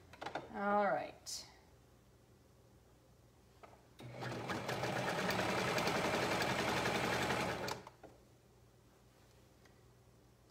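Sewing machine stitching a holiday nightgown runs in one steady, loud whirring burst of about four seconds, preceded by brief handling noises and followed by quiet room hum.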